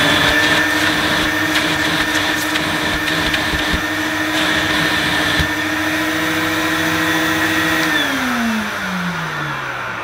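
1980s Electrolux Electronic 506 upright vacuum cleaner running on boost, its motor holding a loud, steady whine that drops in pitch and winds down near the end, with no voices.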